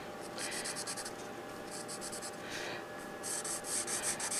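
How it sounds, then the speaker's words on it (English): A pencil draws lines on paper while quilled paper work is made, giving soft, close scratchy strokes in several short rhythmic bursts with brief pauses between them. "the pencil line that I just drew in"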